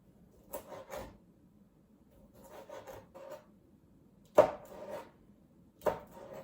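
A knife slices food diagonally on a cutting board, with soft, sparse cuts landing in a few separate strokes and a sharper knock on the board, quiet and close, with no talking.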